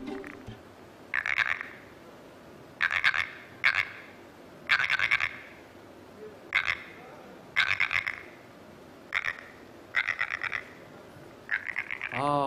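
A handheld foley prop imitates a frog's croak in a studio setting: about nine short, rasping croak bursts repeat at irregular intervals, close and fairly loud against a quiet background.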